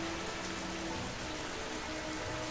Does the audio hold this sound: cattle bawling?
no